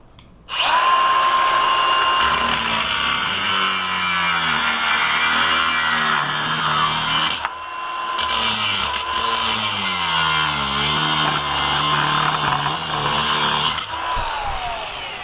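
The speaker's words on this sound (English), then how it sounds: "So that's what it would take to cut with your angle grinder." An angle grinder cuts through the round shackle of a Master Lock #10 padlock with a loud, continuous, harsh shriek that begins abruptly and holds under load with slight wavering in pitch.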